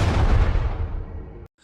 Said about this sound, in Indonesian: serangan tersebut langsunglah menghantam tungku pil yang membuat ledakan begitu besar